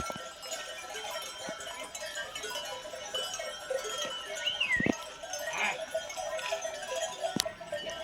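A herd of cows moving past outdoors, with clanking bells, scattered hoof and body sounds, and an occasional distant animal call.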